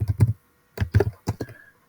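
Quick bursts of typing on a computer keyboard, three short clusters of crisp close keystrokes separated by brief pauses, with no voices.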